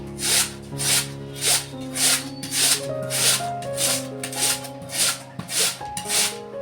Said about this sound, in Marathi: आता मी किसून घेते बघा किसने किसून घेते मी असेच करत आहे